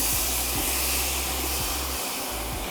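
Apples with syrup added to a hot pan for apple crisp blondies, giving a steady, close broadband sizzle and hiss that fills the whole stretch with no voices.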